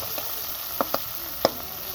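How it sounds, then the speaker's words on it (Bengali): Garlic paste frying in a pan for a Bengali prawn bhuna, giving a soft, steady sizzle with a few faint clicks and pops. "রসুন বাটাটা দেওয়ার পর একটু ভালো করে ভেজে নিব, যাতে রসুন বাটার কাঁচা গন্ধটা চলে যায়।"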